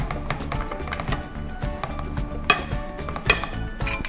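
Rice for a layered chicken biryani being fried and spread in a pot: metal spoon scrapes and clinks against the pan, with a couple of sharper taps over a low, steady cooking hiss.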